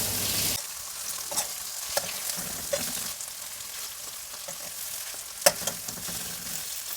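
Paneer fries in a pan with a steady sizzle, broken by occasional sharp clicks and taps of a spatula. One louder knock comes near the end.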